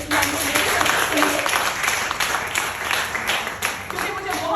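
An audience at a business talk claps steadily throughout, a dense, continuous patter of many hands at close range, blending with the murmur of the crowd.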